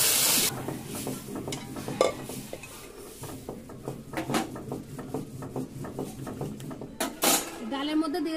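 Rice goes into a pot on a rooftop picnic and is stirred while frying: a spoon repeatedly clanks and scrapes the metal pot over a low sizzle, with people talking throughout.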